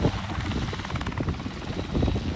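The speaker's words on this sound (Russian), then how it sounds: "вертолетик Ранобот." CH-7 Kompress ultralight helicopter with a Rotax engine running on car petrol, a loud, close, steady rotor chop with rapid rhythmic pulses over broadband engine and wind noise.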